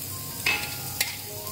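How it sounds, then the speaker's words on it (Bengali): Ginger garlic paste frying with chopped onion and salt in a pan, a steady close sizzle with two sharp scraping stirs of a spoon. "এটা আমার একটু ভাজা হবে"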